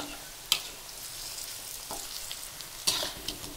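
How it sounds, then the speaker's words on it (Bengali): Fritters made with Gobindobhog rice and Malabar spinach leaves fry in a pan with a low, steady sizzle. A few sharp clinks and scrapes punctuate it as the pieces are turned one by one. No one speaks. "এদিকে নেড়ে দেওয়া হচ্ছে একটা একটা করে, দেখো উল্টিয়ে দেওয়া হচ্ছে।"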